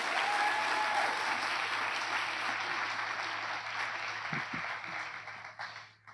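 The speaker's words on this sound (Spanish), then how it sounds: "Vamos a dar un aplauso a ellos que están aquí." A church congregation claps in sustained, dense applause that fades out near the end, heard from within the room.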